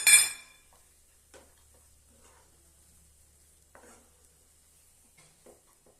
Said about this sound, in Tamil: லாஸ்டா இன்னும் கொஞ்சம் நெய் நான் சேர்க்கிறேன். சேர்த்துட்டு நல்லா கலந்து விட்டுறலாம்.